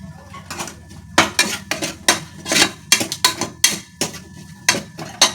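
A spoon clanks and scrapes repeatedly against a pan where cashews fry in ghee, making a quick, irregular series of close metallic knocks with faint sizzling between them.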